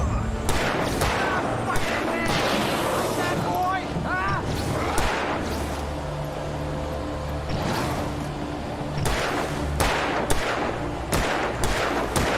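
Gunfire in the video game Alan Wake Remastered sounds as a series of sharp, loud shots, some in quick clusters, over a busy game soundscape while people talk.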